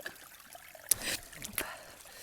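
A small mountain stream on a Smokies trail trickles quietly, with a couple of brief louder splashing bursts over a faint, soft flow.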